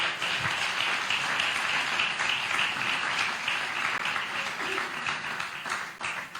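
A church congregation applauds, with broad, sustained clapping from many hands that fills the room for several seconds and fades slightly at the end.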